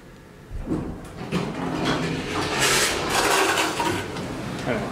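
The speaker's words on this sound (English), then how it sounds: "And the door sounds sick." The door of a worn Dover Oildraulic hydraulic elevator in a shopping mall slides with a rough, faulty scraping and rumbling sound. It is close and moderately loud, and faint speech is heard in the background.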